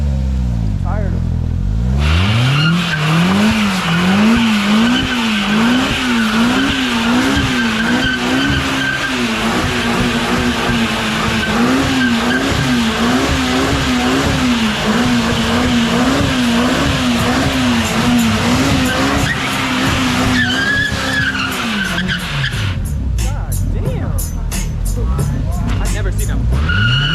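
A BMW M5 at a street takeover revs hard at redline while its tires squeal and skid, a loud continuous wailing rev that wavers in rhythm for over twenty seconds, then winds down.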